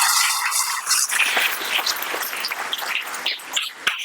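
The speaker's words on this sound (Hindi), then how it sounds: "उसके लिए ताली बजाइए" Students clap for the school chairman at a classroom inauguration in Tezu: sustained, dense applause from a crowd, fairly close, with scattered sharper claps standing out as it goes on.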